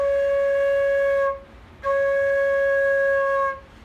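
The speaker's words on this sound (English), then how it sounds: "and you'll get a sound from your flute." Assembled flute played with no keys pressed, sounding a bright sustained note twice with a brief breath gap between, close, loud and alone.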